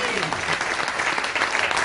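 Dense, steady applause from a theatre audience at a stage show, loud and close, filling the whole short stretch without a break.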